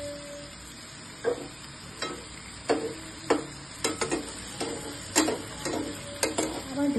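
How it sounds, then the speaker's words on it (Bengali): Katla fish pieces fry with onions in a pan, a soft continuous sizzle broken by repeated clinking scrapes of a spatula stirring, close up and with no voices. "এইভাবে আস্তে আস্তে এটা ভাজা হতে থাকবে আর পেঁয়াজগুলো লাল হতে থাকবে।"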